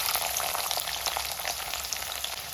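Chopped garlic and fenugreek frying in oil for a Kerala-style dry prawn pickle, a dense, loud, unbroken crackling sizzle close up, with no voices.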